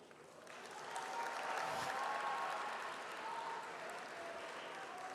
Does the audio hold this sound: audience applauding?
yes